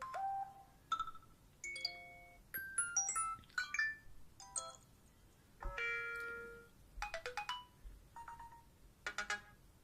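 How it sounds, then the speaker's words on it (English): A series of short electronic chimes and melodic beeps from an iPod Touch 5 on iOS 7 plays one after another, bright synthesized alert tones with brief pauses between, no speech. "And then we do have the new alert tones."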